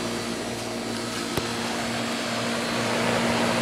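A 1988 3-ton Heil central air conditioner runs outdoors with a steady mechanical hum and fan whoosh, close and constant, with one sharp click partway through and no speech.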